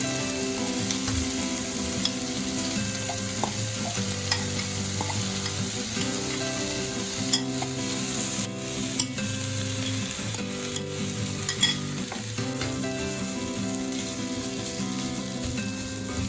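Luncheon meat and onions fry in a pan with a steady, close sizzle, broken up by repeated scraping and clacking as they are stirred, with no talking.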